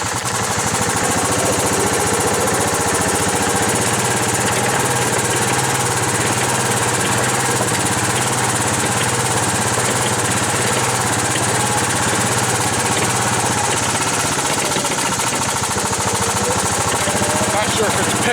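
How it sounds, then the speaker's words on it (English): A Club Car Carryall utility vehicle's engine runs loud and close while driving, a continuous rough mechanical drone that surges back and forth unevenly throughout. "it's kind of surging back and forth there"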